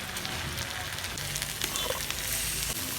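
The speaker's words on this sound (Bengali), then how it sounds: "হালকা করে জিরা বাটা দিলাম আমি এই যে দুটো তেজপাত দিয়ে দিলাম" Cumin paste and bay leaves fry in hot oil, giving a dense crackling sizzle with scattered pops throughout, close and fairly loud.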